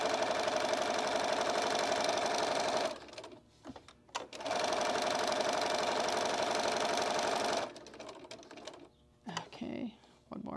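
A sewing machine stitches a cross-stitched pin cushion in two long, steady runs of fast mechanical whirring, close and loud, separated by a pause and followed by short bursts and handling sounds.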